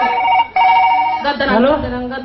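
A telephone rings loudly and close by in two tonal bursts separated by a short gap, then a voice begins speaking over the fading ring.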